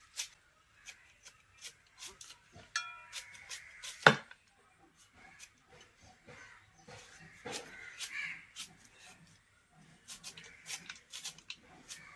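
A knife chops tender jackfruit with crisp, fairly regular thuds and cuts close by, one hit much louder than the rest, while a crow caws faintly in the background.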